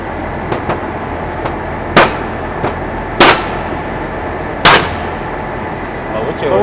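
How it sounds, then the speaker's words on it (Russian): A rubber mallet strikes a sheet of raw glass at a double-glazing window factory: three loud, sharp blows stand out among several lighter knocks, over a steady industrial background hum. "Сначала попробую разбить его резиновой киянкой."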